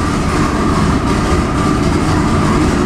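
A Nelson Racing Engines 2200 HP 632 big-block Chevy with twin mirror-image turbos roars on a dyno. The sound is loud and sustained, a dense, rumbling wall of engine and turbo noise close up.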